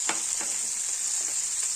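Phodni tempering hisses in hot oil in a kadhai for a brinjal (vangi) bhaji, a steady close sizzle with a few soft stirring scrapes underneath.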